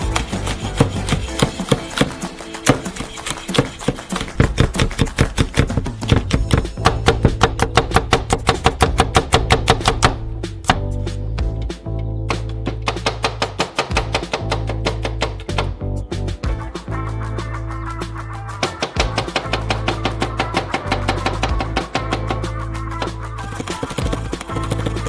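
Knife cutting chili peppers into rings on a cutting board, with rapid, steady rhythmic chopping taps that continue almost without a break, loud and close.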